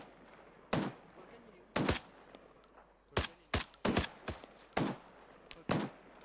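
Gunfire in ARMA 3 cracks out as single sharp shots and short bursts, spaced irregularly and fairly close, while a player speaks briefly over it.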